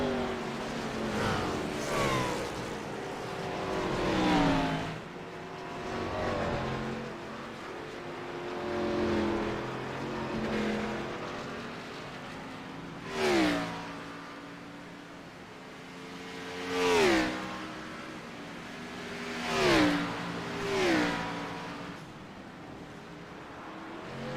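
Ford race cars in a racing sim game, running the Metro Ford Cup at the Charlotte Roval, roar past one after another, engines rising and falling as they approach and fade, with several distinct close passes.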